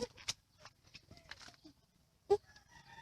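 Chickens cluck in short, scattered bursts nearby, with one sharper squawk standing out among the quiet farmyard calls.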